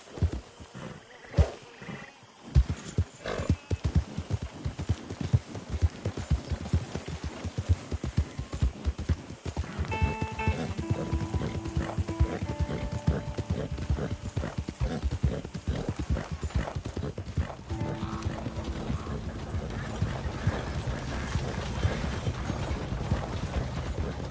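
Horse hooves clip-clop in a fast, steady gallop in Red Dead Redemption 2, close and continuous for the whole stretch, with faint game sounds underneath.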